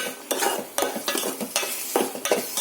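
Ground coconut masala stirred in a pan, quick close scraping strokes of a spoon against metal over a soft sizzle, about six strokes in under three seconds.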